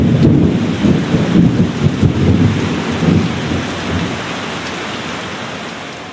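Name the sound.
rain and thunder, thunderstorm sound effect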